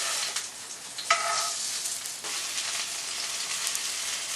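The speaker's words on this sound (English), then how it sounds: "So we're going to flip it in the pan." Salmon fillet sizzling and frying in a pan as it is flipped, a steady loud crackle with a sharp burst of spitting partway through, no voices.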